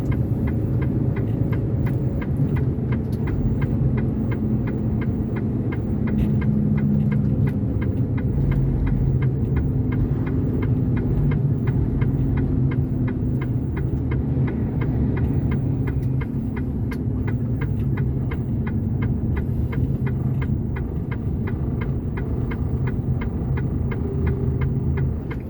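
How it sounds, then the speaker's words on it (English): A truck engine idles in a roadside stopping bay, producing a steady low throbbing rumble with a faint periodic pulse. It is loud and constant throughout, with no speech. "I'll leave the engine running for this."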